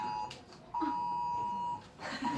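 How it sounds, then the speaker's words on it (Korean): An emergency disaster text alert sounds on a mobile phone as a fairly faint, steady electronic tone. It comes in short bursts and one longer sustained beep over quiet room noise. "긴급재난 문자"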